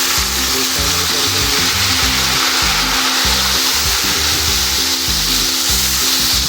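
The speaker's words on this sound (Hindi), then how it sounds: "अब इस मसाले को अच्छी तरह भून लेंगे।" Ginger-garlic paste, green chili and tomato masala fries loudly in a pan for an aloo gobhi dish, a steady close hiss with a rhythmic low scraping as the paste is stirred, no voices.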